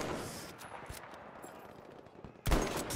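Rapid bursts of Battlefield V gunfire crackle at a distance under steady background noise, with a louder burst near the end.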